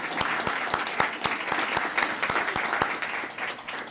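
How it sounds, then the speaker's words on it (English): A modest crowd at a morning Student of the Month ceremony in Temecula claps together, with individual sharp handclaps standing out in a fairly regular rhythm over a steady wash of applause, close and moderately loud, with no talking. "If we could give them a round of applause."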